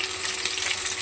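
Chopped tomatoes, bay leaves and green chilli frying in a pan, a brief continuous close sizzle with a faint stirring texture, no speech.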